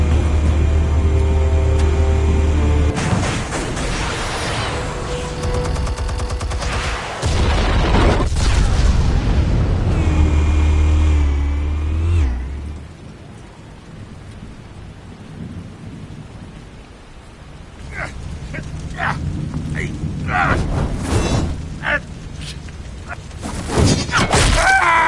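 Explosives detonating in a Batman video game, with heavy booming blasts and rumbling debris early on, then quieter crackling and scattered impacts that swell again toward the end, with no talk.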